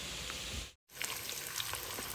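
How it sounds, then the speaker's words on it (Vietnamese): Food frying in a pan gives a steady sizzling hiss with small pops and crackles, interrupted by a brief cut, with no talking. "mẹ chiên cái này xong cái nữa là xong rồi"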